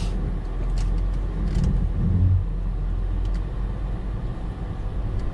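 BMW E39 540i on a test drive after a new driveshaft was installed: a steady, deep low rumble of engine and road noise heard from inside the car, fairly loud and unbroken, with no talk.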